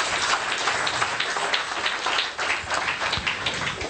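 A church congregation applauds during a French-language service, with dense, continuous clapping from many hands that holds steady and fairly loud throughout, with no break.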